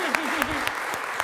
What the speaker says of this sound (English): if we could just give them a round of applause for working very hard